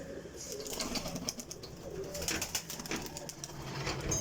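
Pigeons in a breeding-pair loft cooing softly amid rustling and occasional wing movement; a low, indistinct murmur of birds nearby, no talk.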